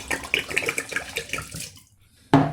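Brandy gurgles as it is poured into a glass, a steady splashing stream that fades to quiet before a sharp sound ends it.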